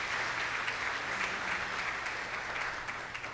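Audience at a Kentucky Bourbon Hall of Fame induction ceremony applauds with steady, moderately loud clapping that continues through the clip.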